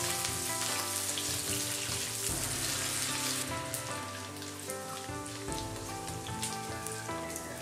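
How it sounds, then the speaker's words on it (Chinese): Minced pork stir-frying in hot oil in a wok: a dense, crackling sizzle like heavy rain, steady throughout with brief spatula scrapes and bumps, quiet and continuous with no speech. "倒入切好的肉末，炒香炒出油"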